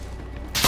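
A burst of gunfire in Call of Duty: Black Ops Cold War, during a campaign firefight. Half a second of quiet background gives way to a loud, close volley of shots that lasts to the end.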